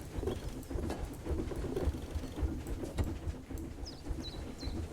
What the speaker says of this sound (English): What does that sound? Oh, it's a train.